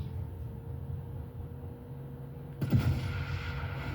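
A quiet lull breaks with a single sharp, booming sniper rifle shot in Sniper Elite Resistance, followed by a short rumbling tail.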